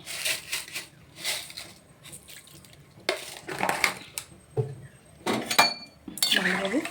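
A vegetable mixture with salt and sugar is stirred in a cooking pot, giving repeated close scraping and clinking of a utensil against metal in irregular bursts, with faint background noise between them.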